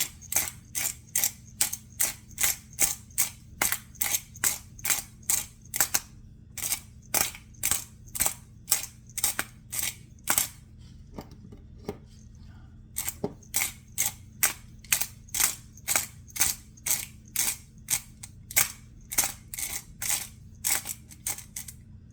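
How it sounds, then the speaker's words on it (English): A hand pepper grinder cranks out white pepper in a steady run of rapid ratcheting clicks, close and crisp, with a short pause midway before the grinding resumes. "And we need 1/4 teaspoon of white pepper. That means grinding time."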